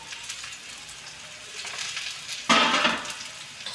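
Curry leaves drop into hot oil for a Marathi toor-bean rice dish, setting off a sudden loud burst of crackling sizzle that flares up, then settles into a softer spitting hiss over quiet background sizzling.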